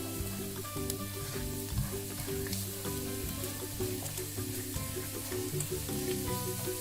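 Onion and pepper sauté in a pan of oil where garlic has already browned. A steady, close sizzle runs throughout with light stirring scrapes and faint crackles, and nobody speaks.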